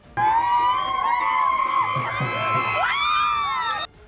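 A crowd in Jejuri, Pune, celebrates the NCP Ajit Pawar faction's municipal council election win with loud cheering, whoops and excited shouting that starts abruptly and stays intense before cutting off.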